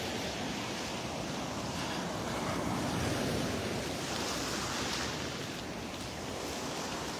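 Ocean surf rolls onto the beach at Delnor-Wiggins on an overcast morning as the tide comes in. It is a steady, broad wash of breaking waves, with some wind rumble on the microphone and no voices.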